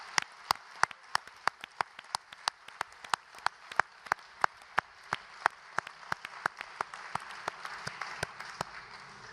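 Sparse, steady clapping at a union federation congress in Dijon as election candidates are acknowledged, sharp evenly spaced claps ringing out fairly quietly over a hushed hall.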